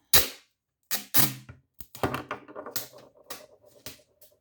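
Sharp snipping and crinkly tearing sounds come in irregular bursts up close, scissors cutting through tape at a study desk, with no talking.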